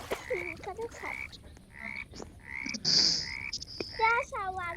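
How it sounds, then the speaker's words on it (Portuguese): Frog croaks from a video game ring out in a string of repeated, warbling calls, clear and prominent throughout with no talking over them. "Cadê o sapo?"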